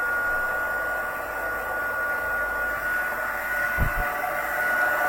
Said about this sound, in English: I'm just going to start my heat tool up away from the microphone, and I'm just going to let it warm up.